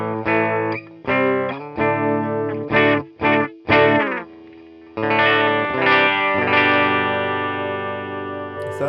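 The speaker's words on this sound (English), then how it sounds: "we're going to be playing on Epiphone, inspired by Gibson SG Standard" An Epiphone SG Standard electric guitar played into an amp modeler with chorus and echo, ringing chords in short bursts separated by brief gaps, then a longer sustained chord fading out.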